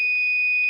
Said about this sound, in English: that was the smoke detector